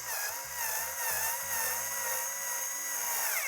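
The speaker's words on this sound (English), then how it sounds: "We're gonna go right up underneath and get to screwing." A power tool whines steadily while screwing legs onto a TCL X11L TV, with a continuous pitched motor hum and shifting tones that stay close and moderately loud with no pauses.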